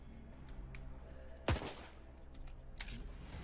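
A single sharp gunshot in a Roblox game, one loud crack standing out against low background hum, followed by a fainter pop a moment later.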